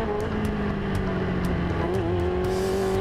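Formula Student race car at full throttle on the Silverstone circuit, a steady high-pitched engine drone with a slight pitch dip and recovery as it shifts, continuous and fairly loud with no talk.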